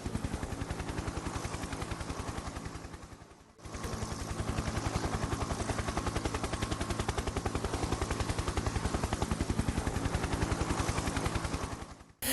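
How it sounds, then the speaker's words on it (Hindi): Attack by a K-52 helicopter: sustained, loud rapid gunfire mixed with rotor roar, a brief dip near the start, then an unbroken dense barrage to the end. "K-52 हेलीकॉप्टर से विध्वंसक हमला किया।"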